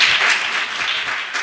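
Church congregation applauding together, a steady, dense wash of clapping that fills the whole moment without pause, fairly close and even in loudness.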